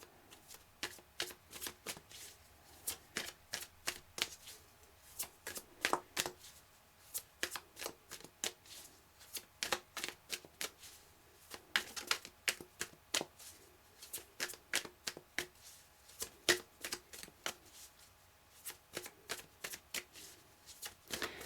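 Tarot cards shuffled by hand for a reading, a long run of quick papery riffles and slaps in uneven bursts, close and soft against a quiet room, without speech.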